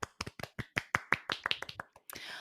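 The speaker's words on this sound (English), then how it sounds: "Applause." A quick, close run of about a dozen sharp, dry hand claps in an uneven rhythm on a podcast set, ending in a brief rush of noise.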